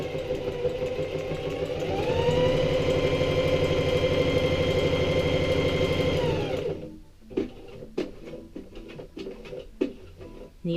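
A sewing machine stitching around a patch on pants, whirring steadily and loudly for several seconds before stopping, followed by quieter clicks and handling sounds.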